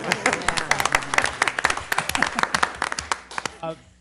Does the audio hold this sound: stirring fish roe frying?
no